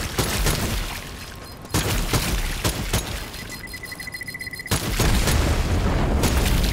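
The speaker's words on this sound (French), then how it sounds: "Je vais taper une dynamite là." Dynamite blasts and a heavy barrage in the Strange Brigade video game, with repeated booming explosions and sharp bursts of gunfire. Mid-way an alarm-like ringing beep pulses in a steady rhythm before the loud blasts return.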